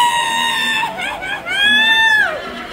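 Voices imitate a witch's scream, long high-pitched shrieking wails that rise and fall, one after another, loud and close, with crowd chatter and laughter around them.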